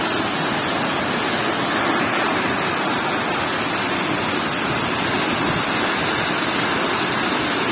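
Tortum waterfall roars close by as a loud, steady wash of falling water that covers everything evenly and never lets up.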